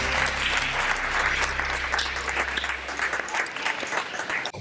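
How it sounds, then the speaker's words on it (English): Sustained applause from an audience at a school spelling bee, a steady dense wash of many hands clapping through the whole stretch, tapering slightly toward the end. "Round of applause, please."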